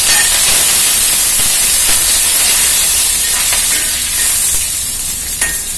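Curry leaves sizzle and hiss steadily in a hot pan while horse gram kuzhambu is being cooked, a loud, continuous frying crackle that stays close and even throughout.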